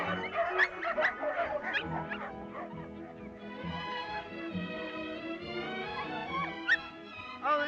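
Dogs bark, yip and whimper in a lively cluster up close, with sharp barks early and then a stretch of high whining and whimpering toward the end.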